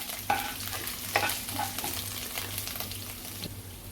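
Sabudana khichdi sautéing in a pan for fasting, with scraping stir strokes and a few sharper clinks over a soft, steady sizzle, close and moderately quiet, with no talking.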